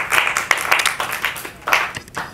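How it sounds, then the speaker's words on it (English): A small group claps for a couple of seconds, scattered uneven hand claps rather than a full roaring ovation. "Give him a round of applause."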